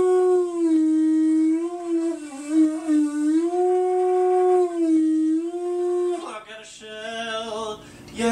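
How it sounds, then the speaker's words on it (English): A seashell blown like a horn gives a sustained, strongly harmonic tone that bends low and high for about six seconds, then breaks into a rougher, wavering higher note, loud and close with no voice. "I'm gonna play some music for you on my shell."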